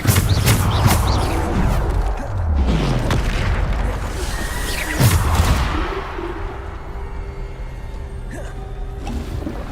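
Bombarda spell explosions in a wizard video game, several heavy booms in quick succession, loud and close, with a lingering rumble and tonal ring fading out afterward.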